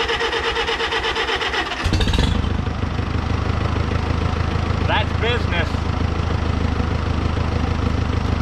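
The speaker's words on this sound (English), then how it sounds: "This is dangerous, standing in front of the tractor tire to start a tractor." A Farmall tractor engine cranks and catches, then settles into a steady, loud chugging idle that runs throughout, with a person speaking briefly over the running engine.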